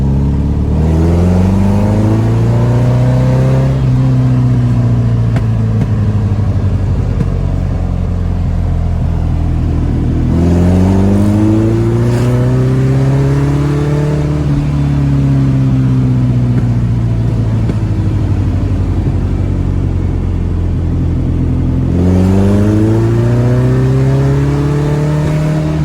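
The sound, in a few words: VW 1800 engine car accelerating in second gear then decelerating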